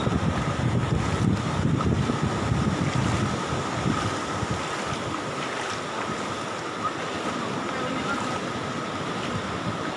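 Sea waves surging and washing across Tanjung Pakis beach during a tidal flood, a dense continuous rush of water with wind buffeting the microphone, steady and close.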